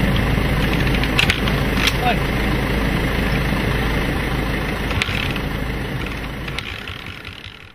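A motorcycle engine idles steadily at close range in South Upi, Maguindanao, a continuous low rumble with a few sharp clicks, while a voice briefly calls out over it.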